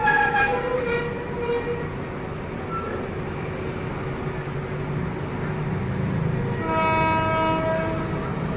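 A long-distance passenger train rumbles steadily along a single-track line in Thailand, with low rolling noise and a sustained horn-like tone sounding near the start and again toward the end.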